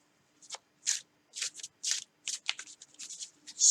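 A deck of tarot cards being shuffled before a draw, a series of quick papery riffles and soft flicks in irregular bursts, close and fairly quiet, with no talking.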